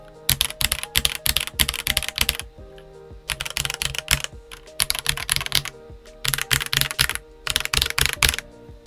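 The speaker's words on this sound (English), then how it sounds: "You can really hear the ping. That's that steel plate." Rapid bursts of mechanical keyboard typing on a budget hotswap tenkeyless board with a steel plate, close and crisp, each keystroke carrying a faint metallic ping, with short pauses between flurries.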